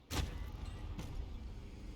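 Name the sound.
car approaching in the video game Warzone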